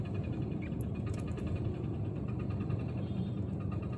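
Steady road traffic near metro construction in Pallavaram, heard as a continuous low engine rumble with broadband hiss, fairly distant and even throughout, with faint higher clatter now and then and no talking.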